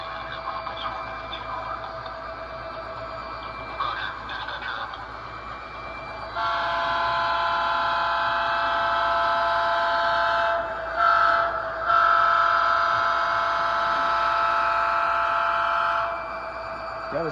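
An HO scale model locomotive's Southern-style horn blows in long sustained blasts over a steady mechanical hum, with brief breaks between toots before it cuts off.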